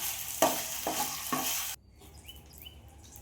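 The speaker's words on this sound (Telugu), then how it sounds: "అల్లం వెల్లుల్లి పేస్ట్ వేసుకొని పచ్చివాసన పోయే వరకు వేయించుకోవాలి" Ginger garlic paste sizzles loudly in a hot pan while a spoon stirs it in three sweeping strokes, then it cuts off, leaving faint bird calls in the background.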